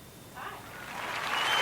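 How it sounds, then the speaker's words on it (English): Applause played over a radio show, starting faint and swelling steadily louder into a broad clapping wash. "You can't hear the applause right now, but everybody online is."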